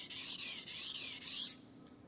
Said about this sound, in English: Continue with another 2 or 3 up and down strokes and check again.